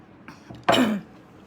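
A single close cough with a rough throat-clearing burst, preceded by a couple of faint small throat sounds, in a quiet indoor setting.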